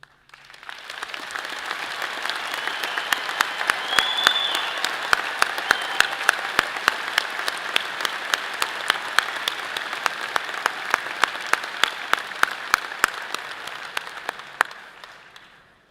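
Sustained audience applause at a university commencement ceremony for the College of Natural Sciences, steady dense clapping from a large crowd that swells in the first seconds, holds evenly, then fades at the end.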